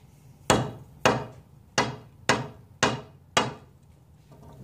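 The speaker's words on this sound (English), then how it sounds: "now I've deliberately stabbed the cue into the table 3 or 4 times" A billiard cue jabbed into a pool table's cloth six times in a slow, even rhythm, each a sharp, close thump that fades quickly, with no talk.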